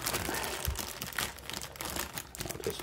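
Stiff plastic packaging around a Bandai Pokémon figure being ripped and crinkled open by hand, a dense continuous crackling close up.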